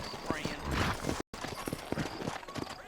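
Horse hooves clip-clop in Red Dead Redemption, with a sturdy horse's steady, fairly close hoofbeats, a brief whinny, and people talking over the top.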